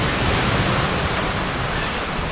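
Rough ocean waves at Las Caletas near Puerto Vallarta, Mexico, a loud, dense, continuous roar of surf filling the whole span with no pauses.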